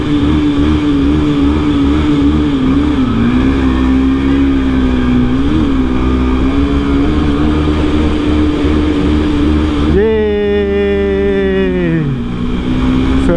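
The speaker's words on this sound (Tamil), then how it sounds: "இதுக்குள்ளே போய் பைக்கில் முறுக்கி ஃபன் எடுப்போம்." A motorcycle rides into a tunnel near Dunshine waterfalls in Sri Lanka with a loud, steady engine drone; toward the end the rider revs hard, the pitch climbing sharply and echoing before easing back.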